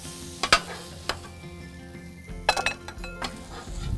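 Brussels sprouts charring on a Blackstone griddle give a low, steady sizzle, broken by sharp metal spatula scrapes and clinks in short bursts at close range, with no talking.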